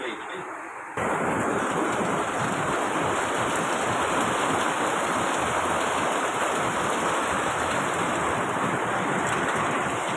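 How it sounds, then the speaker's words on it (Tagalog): Steady rain pours down continuously at fairly loud level, a dense hiss that begins abruptly after a brief quieter opening and holds unbroken to the end. "Umuulan."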